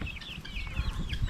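Chickens on a farm in Savannakhet, Laos, clucking in quick overlapping bursts of short high calls over a low rustling background, close and moderately loud.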